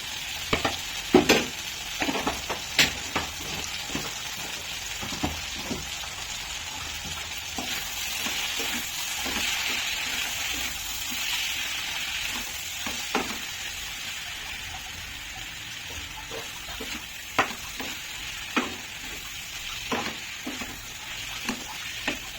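Spices such as white mustard, poppy seed powder, cardamom and garam masala fry in a pan for an egg curry with cashews and raisins, giving a steady sizzle broken by scattered clicks and scrapes of stirring throughout.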